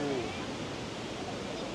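Iguazú Falls roars from the Brazil side, a steady, dense wash of falling water that fills the whole moment without a break, loud and close, with no clear talk over it.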